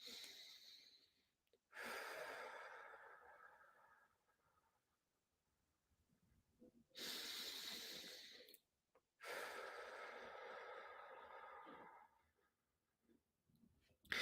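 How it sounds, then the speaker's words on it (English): Slow, deliberate breaths taken to calm anxiety, three long drawn-out airy exhalations and inhalations, close and quiet, separated by silent pauses. "So we'll do a few breaths just to focus."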